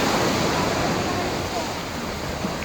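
Sea waves at high tide wash and roar in a continuous broadband rush, loud and close, with some wind buffeting the microphone.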